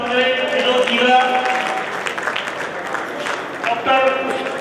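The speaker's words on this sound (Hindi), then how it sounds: "जोरदार तालियों से आप भी स्वागत करें विनोद जी का।" An audience at Maharaja Aggarsain Bhawan claps to welcome a guest, with sustained applause and crowd noise and a voice carrying over the clapping throughout.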